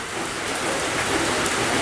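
Steady rain falls outdoors around a rural home kitchen, a dense, even hiss of drops on surfaces held at a constant level throughout, with no voices.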